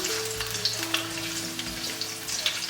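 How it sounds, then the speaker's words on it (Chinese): Ginger and garlic fry in hot oil in a wok, a continuous bright crackling sizzle with small pops and stirring scrapes, close and steady with no talking. "锅里油温热了，先爆香姜蒜。"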